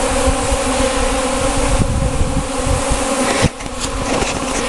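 Honeybees buzz loudly inside an opened beehive, a dense and steady near hum that runs throughout with a brief dip near the end, and no talking.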